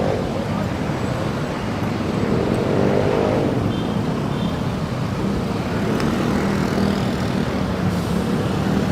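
Metro Manila road traffic roars in a steady, dense wash of passing cars and heavier engines, loud and continuous throughout with no clear breaks between vehicles.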